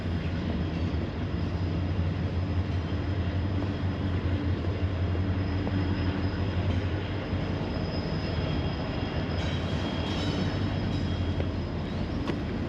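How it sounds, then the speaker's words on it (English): A Union Pacific freight train rumbles steadily past for the whole stretch, with a constant low roar and faint high wheel squeal, no voices, in downtown Little Rock, Arkansas. "There's a Union train coming right there from their freight yard."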